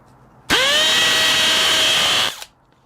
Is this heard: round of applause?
no